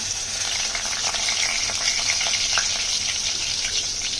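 Garlic dropped into hot oil in a pan for a Maharashtrian okra (bhendi) bhaji, giving a steady, continuous sizzle and crackle with light hiss throughout, close and fairly loud, no talking.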